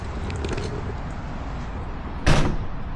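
Door of a Class C RV being shut while its newly installed lock is engaged, giving one sudden solid thud near the end, heard over steady loud outdoor background noise.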